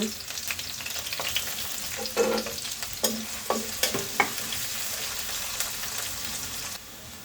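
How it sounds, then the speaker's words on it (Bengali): Chopped onions fry in hot oil in a pan, with a continuous close sizzle and a few clanks from stirring at irregular moments. "এখন দিয়ে দিচ্ছি এর মধ্যে পেঁয়াজ কুচি। তো পেঁয়াজগুলো আমি ব্রাউন কালারের ভেজে নেব।"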